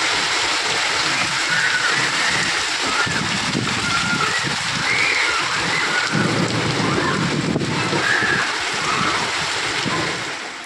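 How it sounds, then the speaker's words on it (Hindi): Heavy rain with hail pours down in a dense, continuous roar, with rattling hailstone impacts and faint rumbling underneath, close and loud. "कितनी तेज़ बारिश हो रही दोस्तों, ओले गिर रहे हैं"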